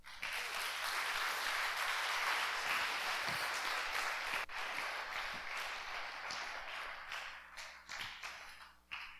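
A church congregation applauds during a sermon, a dense sustained clapping that swells early and thins toward the end with scattered individual claps.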